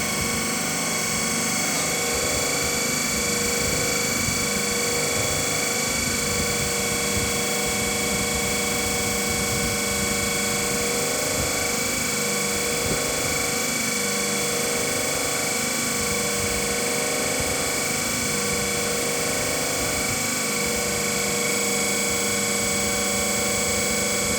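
A DC machine running steadily at about 1500 rpm gives a continuous loud mechanical whine and hum with layered steady tones and a rough low rumble, unchanging throughout with no talk.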